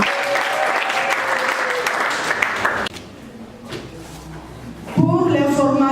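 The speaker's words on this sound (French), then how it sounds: "Nous pouvons l'acclamer." Congregation at a university opening Mass for the 2018-2019 academic year bursts into loud, sustained applause, dense and continuous, which cuts off abruptly and gives way to quieter room sound before another swell of voices.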